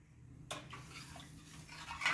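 A spoon stirs thick ragi (finger millet) flour porridge in a pot, with soft scraping and sloshing strokes that begin after a quiet start and continue unevenly, close and fairly faint.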